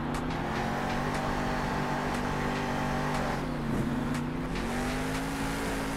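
Monster trucks racing in Monster Jam Steel Titans 2, engines droning steadily with a wavering pitch and a brief dip as one revs, sounding loud and continuous with faint clatter.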